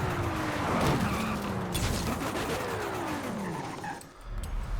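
In a racing video game, a 2021 Lamborghini Countach LPI 800-4 with its stock engine revs hard. Rising and falling engine whines sweep over tire squeal and skidding noise, loud and continuous before a short dip near the end.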